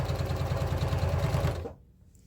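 A sewing machine fitted with a walking foot quilting a quilt, running in a fast steady mechanical rhythm for about a second and a half, then stopping abruptly into near silence.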